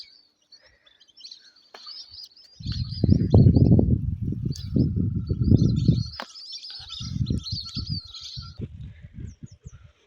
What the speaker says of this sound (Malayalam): കിളികളും കാക്കി എല്ലാം ഉണ്ട്